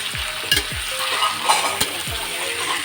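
Tomato and onion sautéing in a pan, a continuous sizzle broken by a few scraping stirs of the spatula, close and fairly loud with no talking.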